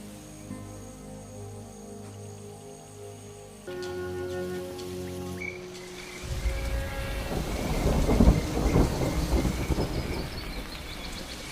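Sudden thunderstorm over the Serengeti plains, heavy rain and rumbling thunder building up after background music fades, growing louder toward a strong peak before easing slightly.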